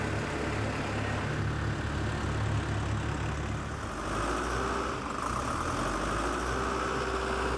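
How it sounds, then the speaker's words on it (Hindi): A newly assembled tractor's engine runs steadily at idle as it is taken out for a road test, a continuous mid-to-low rumble that shifts slightly partway through, with no talking. "और एक वर्कर तैयार ट्रैक्टर को रोड टेस्ट के लिए ले जाता है।"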